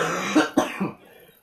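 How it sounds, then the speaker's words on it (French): A person with a cold coughs twice in quick succession, loud and close, followed by a softer throat-clearing rasp, then a quiet room. "j'arrête pas de tousser"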